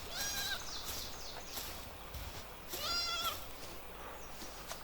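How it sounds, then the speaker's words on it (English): Sheep in the video game Palworld bleating in a few short wavering calls, one early and a louder one near the middle, over steady ambient game noise. "There's a sheep."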